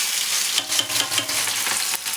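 Ginger, chopped onion and chili frying in a pan for onion-garlic kadhi, giving a loud, steady close sizzle with a few brief stirring scrapes and no talk.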